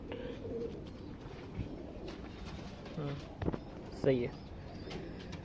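Breeding pigeons coo softly in a loft, a few low throaty calls rising here and there amid faint background noise, with people talking quietly nearby.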